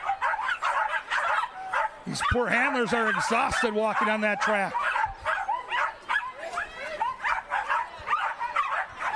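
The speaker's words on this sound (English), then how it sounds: "And you can hear the barking." Dogs bark and yip excitedly in a burst of sharp, rapid calls at Canterbury Park, with someone talking over and around them.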